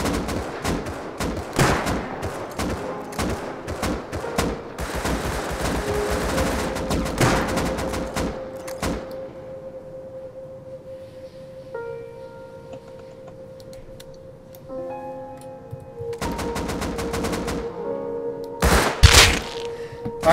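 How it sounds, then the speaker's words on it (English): Rapid bursts of Thompson submachine gun fire in the survival game Rust, heard from about fifty metres away, with sharp broadband cracks clustered in the first eight seconds and again near the end, interleaved with quieter game tones. "I shot them with the Thompson from, like, 50 metres"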